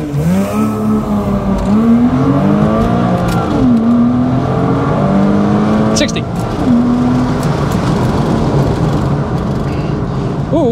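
A Porsche Boxster S 987 launches hard from a standstill for a 0-60 mph run, its engine loud and close as it revs and climbs through several gear changes with dips between shifts.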